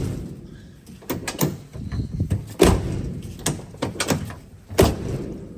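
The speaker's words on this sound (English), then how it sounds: "the doors don't shut right with the new seals" Doors on a 1970s pickup truck with new door seals being shut repeatedly: a series of close, sharp thuds and clunks spaced unevenly across several seconds, with faint birdsong in the background.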